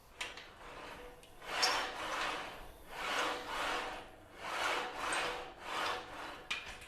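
A Mikolo M4 all-in-one smith machine bar slides up and down on loose, sloppy guide rods. It gives about six rhythmic rasping, rubbing strokes that swell and fade at a steady, moderate pace.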